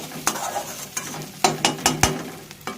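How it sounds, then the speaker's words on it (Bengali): Onions sizzle in a hot pan while a utensil scrapes and stirs them, several sharp clanks and scrapes over a soft frying hiss, close and fairly loud. "এদিকে পেঁয়াজটাও প্রায় ভাজা ভাজা হয়ে গেছে"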